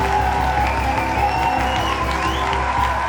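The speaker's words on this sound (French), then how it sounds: "applaudissez pour elle" A crowd applauds and cheers loudly and steadily throughout, with whoops and shouts blending into a dense wash at a French-language show.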